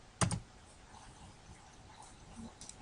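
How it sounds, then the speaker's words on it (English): A short burst of keystrokes on a computer keyboard types a name into a Google search box, a quick close cluster of clicks followed by a few faint scattered taps in a quiet room. "we can do Google search and type in her name, Marie Curie"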